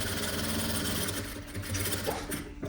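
A sewing machine runs steadily while stitching a vest, a continuous close mechanical hum and rattle with a few faint knocks near the end.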